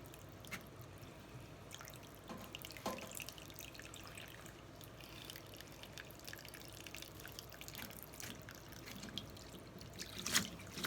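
Water drains from a front-load washing machine that won't empty, trickling and dripping steadily with scattered splashy drops, fairly close and moderately quiet, no talking.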